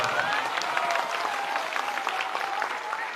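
Crowd at a political rally in Bihar claps steadily, a dense, even patter of many hands sustained throughout, fairly close and without speech over it.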